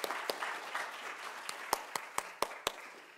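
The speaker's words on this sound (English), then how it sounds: "So let's please give a round of applause to the Freund family for this generous" Sparse applause from a lecture audience at a university visiting artist lecture, a few scattered sharp claps standing out over a soft wash of clapping.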